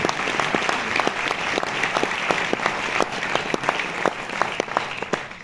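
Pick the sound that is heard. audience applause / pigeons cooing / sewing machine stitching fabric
audience applause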